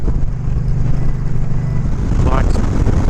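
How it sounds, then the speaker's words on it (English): A motorcycle engine surges unevenly on a dirt road somewhere in the Australian outback, a loud, steady low drone close to the rider that wavers in pitch, with a brief rising whine near the end. "Bike's playing up a bit there again. Some definite surging."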